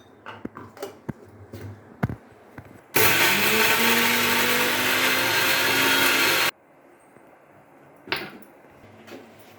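A mixer grinder whirs loudly for a few seconds, its motor pitch rising, between quiet kitchen clatter and taps before and after.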